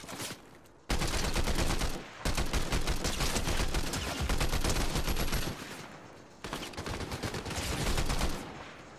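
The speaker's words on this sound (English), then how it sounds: "Who's shooting at me, bro?" Rapid bursts of video game gunfire, loud and close, crackling in long dense volleys separated by brief pauses, with no talking over them.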